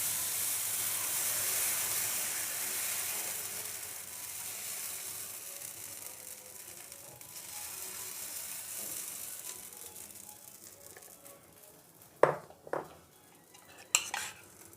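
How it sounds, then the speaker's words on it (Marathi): Dosa batter sizzling on a hot pan while making sandwich dosa, a steady bright hiss that slowly fades, followed near the end by a few sharp clinks of a utensil against the pan, no talking. "अजून एक डोसा घालूया आपण"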